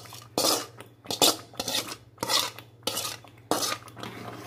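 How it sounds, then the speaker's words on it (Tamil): A spoon scrapes and stirs thick jackfruit kesari in a pan over a low flame, giving about six distinct strokes in a steady rhythm, close and clear, with a low steady hum underneath. "லோ ஃப்ளேம்லேயே வச்சு அப்படியே கைவிடாமல் கிளறிட்டேடுங்க"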